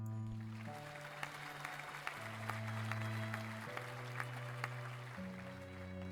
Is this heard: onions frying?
no